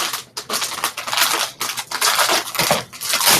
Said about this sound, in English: Okay, we'll just use some scissors here.